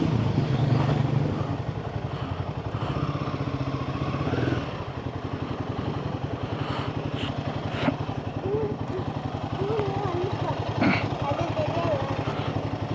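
A Royal Enfield Himalayan 450 motorcycle rides along with a steady, low engine drone, while a rider talks over it throughout.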